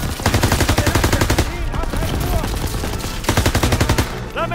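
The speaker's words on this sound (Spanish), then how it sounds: "¡Dispárenle a la ametralladora!" Rapid machine gun fire from a Call of Duty WWII battle, loud dense bursts in two long stretches with a brief gap between them, over a chaotic combat mix.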